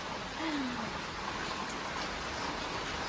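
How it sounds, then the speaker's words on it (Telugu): Rain falls in a steady broadband hiss, with a brief faint tone early on and no clear voices. "సో ఇట్లా వర్షం అయితే మమ్మల్ని"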